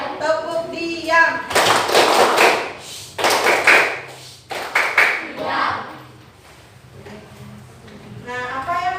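Classroom children perform a rhythmic 'tepuk diam' clapping routine, with loud bursts of clapping and chanting voices alternating with a teacher's speech.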